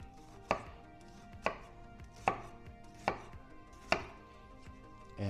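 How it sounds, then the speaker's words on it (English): An onion being chopped with a very sharp knife on a board, five crisp, evenly spaced chops ringing out close and alone against a quiet kitchen. "first thing you do, cut sideways into it, chop down the top"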